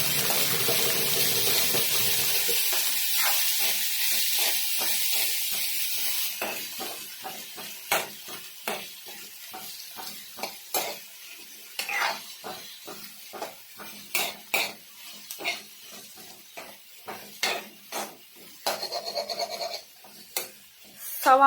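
Onions frying in a pan, stirred with a spoon: a hiss of sizzling at first, then a long run of close, sharp scraping and clinking strokes against the pan at an irregular pace.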